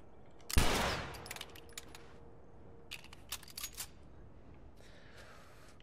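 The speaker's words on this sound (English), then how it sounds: "Oh, can I shoot the lock off?" A single sharp gunshot at a lock in The Last of Us cracks loudly and decays into a ringing tail. It is followed by faint scattered clicks and small metallic taps in a quiet setting.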